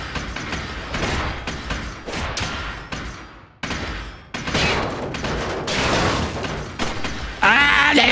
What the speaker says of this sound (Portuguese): Ah, é meu primeiro tiro